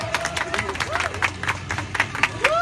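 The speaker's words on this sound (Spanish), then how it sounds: "Aplauso para Carlos" An audience claps at a children's day event, with a brisk run of overlapping handclaps and light crowd murmur mixed in beneath a voice.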